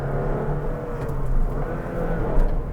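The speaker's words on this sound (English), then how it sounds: "you should keep revving the daylights out of it because it's just music to ears" Honda Elevate SUV engine running at raised revs, a steady, fairly loud, close hum with slight swells and no talk over it.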